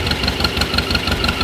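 A narrow front tractor engine idles steadily at close range, a loud, even mechanical thrum with a rapid knocking pulse and no speech over it.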